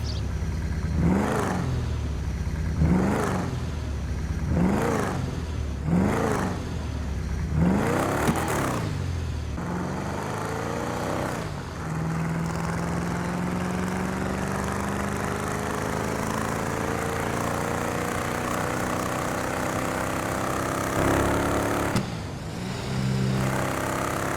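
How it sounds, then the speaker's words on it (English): A Rat Truck's engine in GTA Online revs in several sharp, rising bursts, then holds a long, steady climbing drone before easing off and revving again. It is loud and close with no voices. "If you're in the mood to just listen to a great sounding car, just buy the rat truck."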